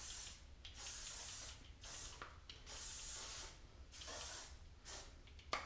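Hairspray is sprayed onto a curled pixie cut in several quick bursts of about half a second each, close and sharp, separated by short pauses.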